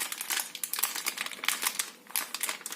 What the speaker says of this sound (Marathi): प्लास्टिकची पिशवी वापरणार आहे, ज्यात मी टाकून बॅटर घेणार